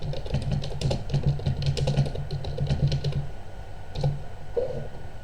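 Someone types a message on a computer keyboard in quick bursts of close, crisp key clicks, pausing briefly before a few final keystrokes.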